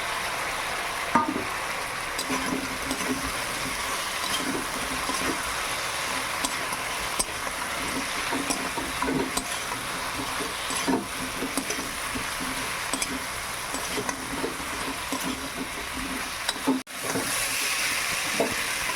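Chicken lollipops fry in a pan with a steady, moderately loud sizzle and occasional stirring scrapes, with no talking over it.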